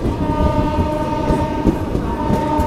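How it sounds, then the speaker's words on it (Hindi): Chetak Express train rolling into Bhilwara railway station, a steady loud rumble of wheels and carriages with a sustained horn-like tone running throughout, no talk. "अभी हमारी ट्रेन पहुंच रही है भिलवाड़ा रेलवे स्टेशन"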